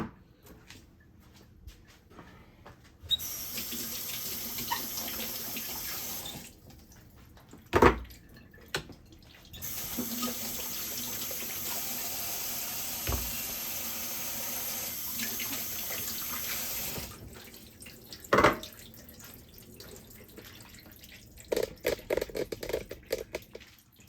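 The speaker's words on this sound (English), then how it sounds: "Let's rinse those tops." Can tops rinsed under a running kitchen tap while making homemade pizza, with water gushing in two long bursts separated by quieter pauses, a few knocks, and dripping at the end.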